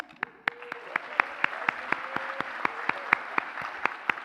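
Audience applause at a California State University Long Beach convocation, a steady wash of clapping with sharp individual claps popping through, sustained and evenly loud throughout.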